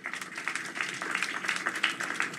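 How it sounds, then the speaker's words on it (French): A crowd at a gathering in Port-Salut gives a round of applause, steady dense clapping at moderate distance for a couple of seconds. "Un applaudissement, s'il vous plaît, pour ces deux gens-là."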